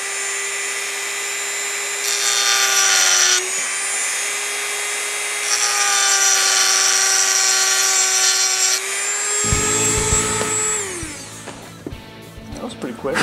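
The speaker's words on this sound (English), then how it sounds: "So this is the spot that we wanna grind right here." A rotary power tool grinds the housing of a GoPro Hero 4 Black so it will fit a Zenmuse gimbal, a sustained high whine that steps between pitches, then winds down as people talk nearby.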